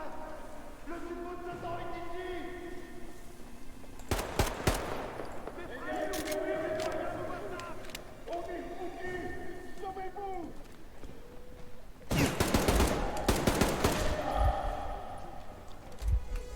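Gunfire in the video game Metro Exodus: several sharp bursts of shots in two clusters, loud against steady in-game ambience and tonal background sound, with voices talking around them.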